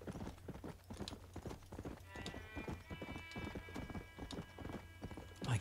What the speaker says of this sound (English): That's someone on a horse.